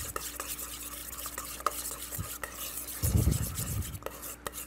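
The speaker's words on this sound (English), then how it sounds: "what we're going to do is we're just going to put a real quick mix on this" A spoon quickly stirs creamy barbecue coleslaw dressed with mayonnaise in a bowl, giving soft wet scraping and a louder burst of mixing near the end, close and alone.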